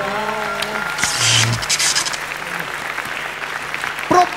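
Studio audience applauding on a Thai televised singing competition show, a moderate burst of clapping mixed with music and brief voices, fairly short and not very loud.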